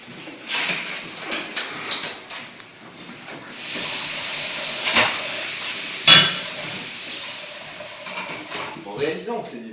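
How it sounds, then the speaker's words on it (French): Dishes being washed at a kitchen sink: water runs and hisses while plates and utensils clink and scrape in uneven bursts close by, with a voice heard only briefly. "Je sais qu'il y a de la vaisselle à faire, ben je vais la faire"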